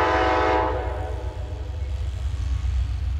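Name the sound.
Amtrak passenger train passing with horn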